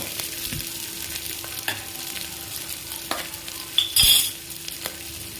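Onions sautéing in a pan for a tomato-potato kurma, a soft continuous sizzle broken by occasional spatula scrapes and knocks against the pan, close and without any talk.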